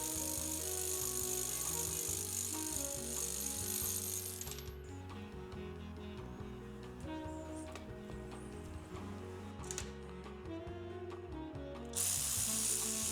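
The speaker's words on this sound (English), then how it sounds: "watching the proof that the 12-volt Workpro and the other two 20-volt machines all tighten and loosen these bolts at about the same speed" Several cordless ratchets, a 12-volt Workpro and two 20-volt Harbor Freight-type units, running bolts in and out with a steady mechanical whir and ratcheting chatter, nearly continuous, close and clear with no talk.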